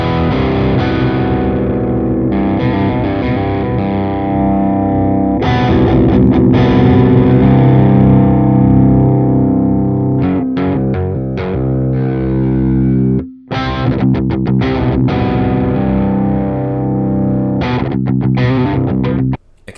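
Distorted metal electric guitar recorded through a 121 ribbon microphone, with a thick low end: heavy chugging riffs and sustained chords played loud and continuously, with a brief stop near the end and no talking.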